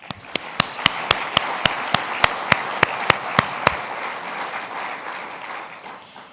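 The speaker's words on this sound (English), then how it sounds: "Let's start with a round of applause for that." Audience applause at a presidential history forum at the Kennedy Library, with one nearby person clapping in a sharp, regular beat over a softer crowd of clapping that fades out after about four seconds.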